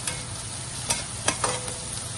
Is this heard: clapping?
no